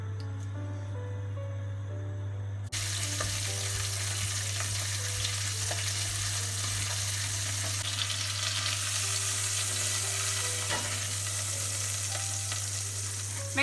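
Bacon added to hot oil and rendered fat left in the pan for a cassoulet, giving a steady, close broadband sizzle that jumps louder a few seconds in and then holds continuously, with no talking.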